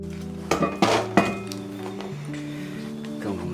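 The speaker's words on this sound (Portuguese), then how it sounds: "Coloquei uma pedra de gelo dentro da panela, tampei e voltei ao forno por 20 minutos." A piece of ice dropped into a cast iron pot, followed by the heavy lid being set on with several ringing metallic clanks and scrapes, then a lingering hum.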